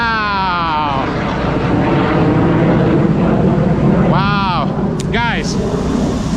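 Airplane flies close overhead, a loud roaring engine drone with sweeping pitch changes as it passes, followed by a second quick whooshing pass, with people talking faintly beneath.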